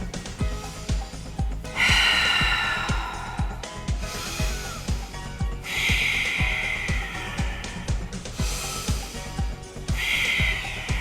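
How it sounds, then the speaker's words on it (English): Deep, forceful breaths during a Pilates workout: long rushing inhales alternate with sharp exhales in a steady rhythm, close and fairly loud, no talking. "Take one more deep breath."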